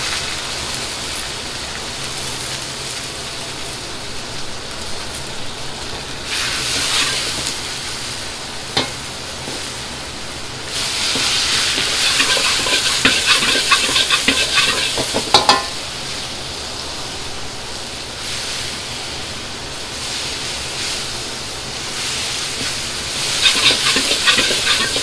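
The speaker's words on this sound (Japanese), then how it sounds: "最初にちょっとニンニクでたっぷりほうれん草、これね、ちょっと炒めていきます" A generous pile of spinach stir-fries with garlic in a pan, a loud hissing sizzle that swells in bursts as it is tossed and stirred, close up with no talk.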